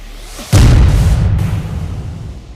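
A single loud, close explosion blast from war footage in Syria, a sudden boom at the start followed by a long rumbling decay.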